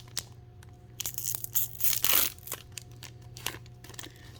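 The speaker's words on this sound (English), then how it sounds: "Let's open up a pack of actual Digimon cards." A foil pack of Digimon trading cards torn open by hand, with several sharp crinkling rips peaking midway, close and fairly quiet, over a low steady hum.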